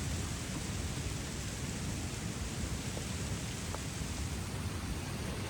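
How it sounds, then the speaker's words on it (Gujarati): Heavy rain falls steadily in a dense, unbroken roar, with thunder rumbling low underneath throughout. "વરસાદ ભાઈ શરૂ થઈ ગયો છે"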